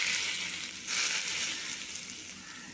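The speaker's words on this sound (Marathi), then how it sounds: "ही फोडणी आपण गरम गरम ह्याच्यामध्ये होते." Hot tempering of oil with asafoetida and curry leaves is poured into a chutney mixture, giving a bright, loud sizzle that flares near one second and then fades steadily.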